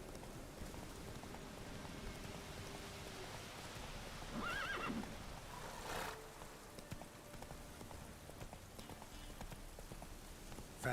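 In The Witcher 3 video game, a horse gallops with steady clip-clopping hooves under a constant hiss of rain, and one clear neigh rises partway through.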